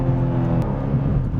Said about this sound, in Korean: 이렇게 가속 페달을 밟고 쭉 전개해 나갈 때